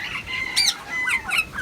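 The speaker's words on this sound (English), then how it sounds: "Here's my eclectic parrot." A female eclectus parrot calls close by with loud, piercing squawks and screechy whistles in two or three short bursts, separated by brief pauses.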